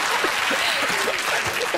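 Studio audience applause on a TV chat show, a dense steady wash of clapping from a crowd lasting a couple of seconds, with a few brief voice-like tones poking through.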